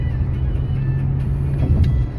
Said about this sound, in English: There are cars on the road, obviously, right?